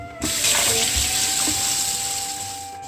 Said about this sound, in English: But before that, we will wash this and soak it with water. Yeah. So let's wash it now.